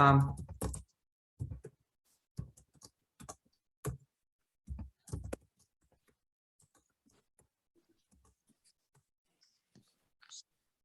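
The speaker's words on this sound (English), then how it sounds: "just typing something out to Kathy." A short burst of keyboard typing, scattered clicks and taps with pauses between, close by, then near silence.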